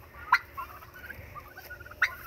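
Turkeys gobble twice from a short distance in the dark early morning, two quick rattling bursts separated by a pause, over a low murmur of outdoor background noise.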